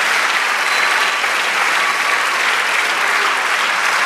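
A church congregation keeps up loud, continuous applause for a few seconds, a thick, even wash of clapping with no speech heard over it.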